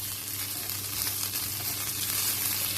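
Rice toasting with butter in a pot for pilaf, a steady close crackling sizzle with faint stirring, no voices.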